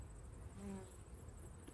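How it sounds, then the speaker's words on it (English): Bees crowd a very full, honeyless backyard hive, giving off a soft, steady buzzing hum up close, with a brief tonal whine rising partway through. "Very full of bees, but no honey."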